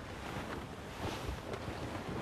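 Wind blows at sea in Assassin's Creed Rogue, a loud, rough, gusting roar with swells and surges that suggest waves, steady throughout and with no talking.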